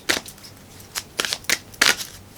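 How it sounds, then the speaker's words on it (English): Tarot cards being shuffled and pulled from the deck, about five crisp riffling bursts, close and fairly loud, separated by short quiet gaps. "let's pull one of these cards for what they need to surrender at this time"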